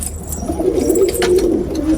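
A ringed pigeon coos close by, a soft low rolling call repeated through two seconds over faint background noise.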